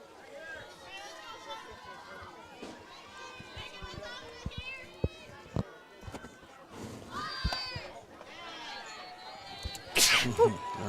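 A sneeze breaks through amid spectators at a high school softball regional final, with children playing and crowd chatter around it; it is brief and close, with a sharp burst near the end.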